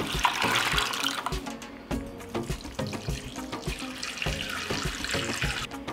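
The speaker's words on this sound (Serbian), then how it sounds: "Zatim u šerpu sipam vodu, naliću do visine poklopca, nosim na šporet da se kuva" Water runs and splashes steadily into a large pot being filled to boil jars of preserves, with irregular clinks throughout and no voices.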